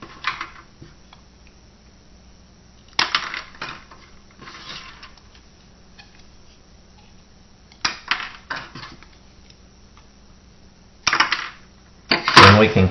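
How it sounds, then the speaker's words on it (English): A few sharp snips from scissors cutting plastic bendy straws at the bend, spaced several seconds apart, close by and fairly quiet against a hushed room. "we are going to cut right here where it bends"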